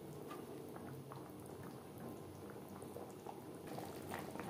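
Tangra fish curry with maan kochu simmering in gravy in a pot, giving a faint, steady bubbling and popping that continues without pause and without any voices.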